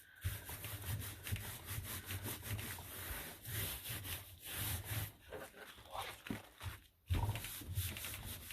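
Hand rubbing paper flat against a page to stick it down, leaving some wrinkles, a close, continuous scratchy rasp in uneven back-and-forth strokes with brief pauses.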